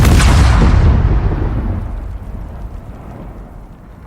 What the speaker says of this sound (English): I just got struck by lightning